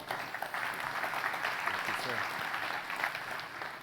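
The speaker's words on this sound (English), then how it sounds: "a round of applause" Audience at an AI ethics and innovation conference applauding a headline speaker, a steady dense round of clapping throughout, moderately loud and without a break.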